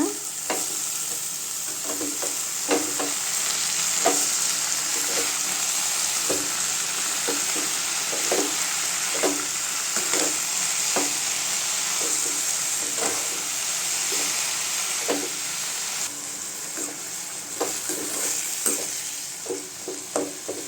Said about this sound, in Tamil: புதினா நல்லா வதக்கி விட்டுக்கலாங்க